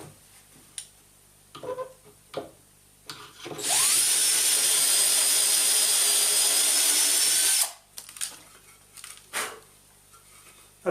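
Power drill with a jig boring about half an inch into timber: a steady high whine for roughly four seconds, with scattered handling clatter before and after.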